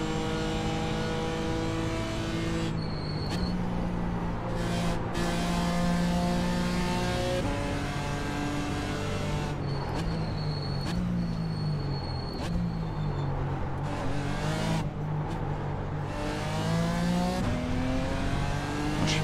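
A BMW M4 GT4 race car in the iRacing simulator gives a loud, continuous engine note, revving up through the gears with sharp upshift cuts and dips on braking, with no voices over it.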